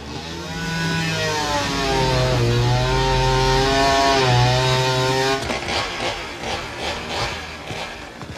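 A small engine roars loudly and steadily, its pitch rising and falling as it revs, then settles into a rougher, pulsing drone.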